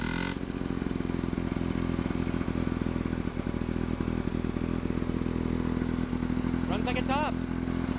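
Lawn-Boy 8229A lawn mower engine running steadily close by, a loud, even two-stroke buzz with fast rhythmic pulsing throughout, with a short voice heard briefly near the end.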